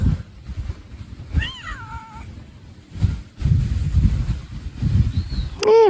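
A cat outdoors gives two distinct meows, a rising-falling cry early on and a sharp short one at the end, over wind-buffeted background rumble.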